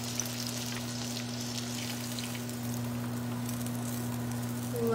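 Walleye fish pieces sizzle steadily in a hot frying pan, a close, even crackle with a low constant hum underneath and no talking.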